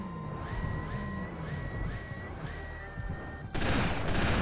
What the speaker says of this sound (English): Okay, so all I've got is the chain gun.